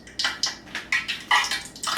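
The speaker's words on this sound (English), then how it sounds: "Let the water drip off your hand into the pan." Water flicked off a hand into a hot, empty cooking pan spits and sizzles in short, sharp bursts, about six quick crackling hisses over two seconds, close and fairly loud with no talk.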